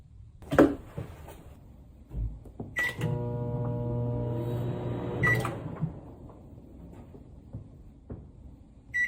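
A kitchen microwave oven hums steadily for a few seconds between sharp clicks and clunks of its door and buttons, with short electronic beeps at the start and end of the run.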